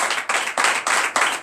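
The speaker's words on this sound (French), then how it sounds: "Donnez la acclamation à Jésus." A church congregation at a night deliverance and prophecy service claps in a dense, steady burst of applause, loud and close, for a little over a second.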